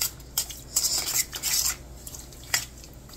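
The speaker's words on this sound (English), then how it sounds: "You can give this a quick stir." Utensil stirring casserole in a crock pot: a few scraping clinks against the pot rim in irregular bursts, close and fairly quiet, with no voices.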